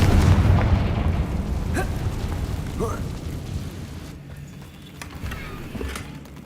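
A Confringo fire spell detonates in Hogwarts Legacy, a loud rumbling blast at the start that fades slowly, with scattered small pops and game effects trailing after.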